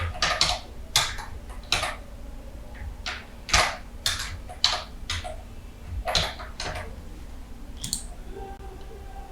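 Keys on a computer keyboard are tapped in short irregular bursts while a captcha is entered, crisp close clicks separated by brief pauses over a faint steady hum.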